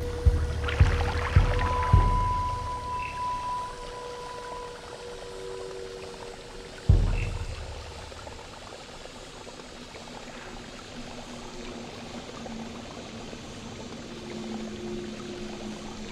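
Water pours in the Noita video game, a soft liquid trickle and gurgle with a few sharp impacts near the start and one around the middle, all without speech.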